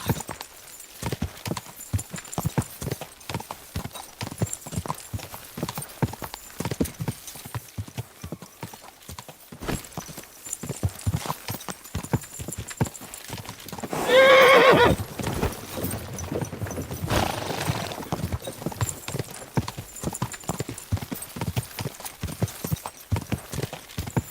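Horse hooves clip-clop in a steady run of close, repeated beats, with a whinny breaking in around the middle, and a few indistinct voices faintly present.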